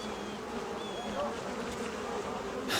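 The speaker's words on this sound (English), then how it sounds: "The poor bees are about to drop dead from this blasted heat." Bees buzzing steadily around hives in the video game Crimson Desert, a continuous close insect drone with a few brief passing buzzes and no speech.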